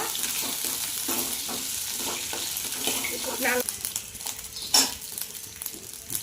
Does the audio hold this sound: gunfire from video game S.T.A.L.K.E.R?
no